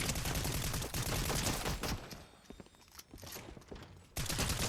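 Bursts of rapid gunfire from the video game Fortnite, dense automatic volleys at first, then scattered single shots in a quieter stretch, before another loud burst.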